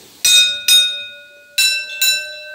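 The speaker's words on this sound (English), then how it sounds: "and the sound of the bells" Signal bells of a coal mine winding engine in a colliery setting ring out in four clear, loud strikes, two close together, a pause, then two more, each leaving a bright sustained ring.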